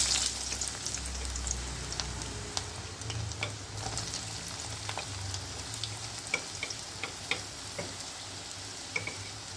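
Beetroot and carrot pieces frying slowly on a medium flame while being gently stirred, a soft continuous sizzle with scattered light clicks and scrapes.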